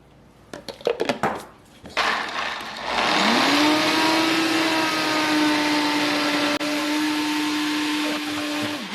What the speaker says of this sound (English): so we're just gonna throw this on the blender and blend this up till it's smooth